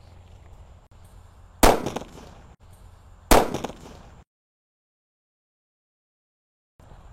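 Two sharp, loud bangs from a Colorful Sweater firecracker go off close by, a couple of seconds apart, each with a short crackling tail, and then there is silence.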